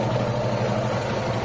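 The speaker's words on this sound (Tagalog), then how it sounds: "tayo natin mag-init yung makina" A Mitsubishi Lancer EL engine idling as it warms up after a heavy service, a steady, loud, even rumble with a constant low drone and no talking.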